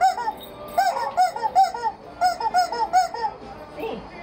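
Squeaky rubber chicken dog toy squeezed with a puppy nearby, a quick series of honking, goose-like squawks in two bursts, close and loud, followed by a fainter trailing squeak.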